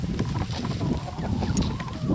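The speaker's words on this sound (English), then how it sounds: "Free ranging chickens" Free-ranging chickens moving about outdoors, giving soft, scattered clucks and low murmurs that run steadily under a muffled background rustle, fairly close and moderately loud throughout.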